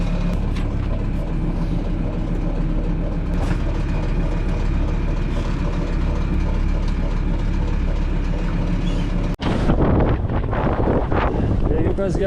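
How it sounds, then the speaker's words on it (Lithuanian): Heavy wind blasts over a sailboat riding at anchor, a loud steady roar with microphone buffeting that shifts abruptly near the end to gustier rushing and water noise. "Vėjukas gerai košė."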